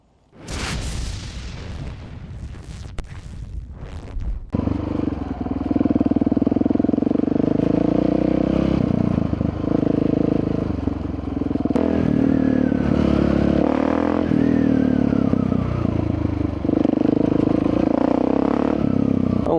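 A Husqvarna 701 Supermoto motorcycle starts up with rough mechanical clatter, then its engine roars steadily and loudly, rising and falling as it revs while riding.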